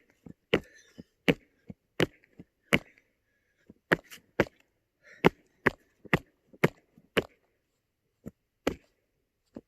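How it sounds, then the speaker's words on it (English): A roughly 210-pound person jumps on early lake ice, each landing making a sharp, cracking thud; about twenty distinct impacts come in irregular bursts over near silence, with faint breathing between some. "I'm going to just jump up and down on the ice until I go through."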